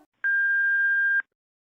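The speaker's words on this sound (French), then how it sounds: "laissez-moi un message après le bip" A single steady electronic answering machine beep, clear and close, holding one pitch for about a second before cutting off into silence.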